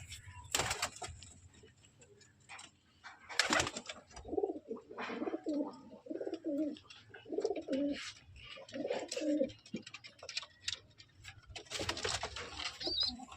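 Domestic pigeons coo softly in repeated short bursts, with occasional rustling and flutters nearby and faint talk in the background.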